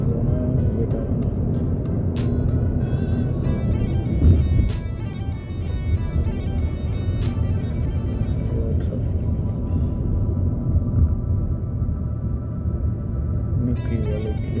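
Heavy road traffic with cars moving close by: a loud, continuous engine rumble and road noise that holds for the whole stretch, with a few brief clicking sounds on top.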